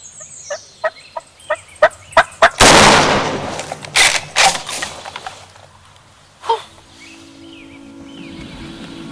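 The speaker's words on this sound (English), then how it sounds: "It's a perfect turkey right there." Merriam's wild turkey gobbling in spring turkey season, hens nearby: a quick run of sharp, close calls, then a loud broadband burst and a few fainter calls trailing off.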